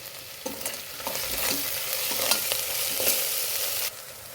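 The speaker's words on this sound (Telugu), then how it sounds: "అల్లం వెల్లుల్లి పేస్ట్ వేగుతున్నప్పుడు ఇందులోనే పసుపును కూడా యాడ్ చేయండి." Ginger garlic paste with turmeric fries in a pan for soya pulao, giving a steady close sizzle broken by several spoon scrapes as it is stirred, then cutting off sharply before the end, with no talking.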